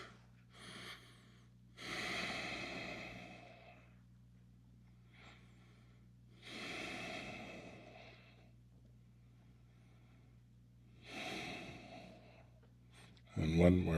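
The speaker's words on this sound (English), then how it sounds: "Keep on breathing into this." Deep, slow breathing during a yoga exercise: several long, audible breaths in and out, evenly spaced and close, with quiet pauses between them.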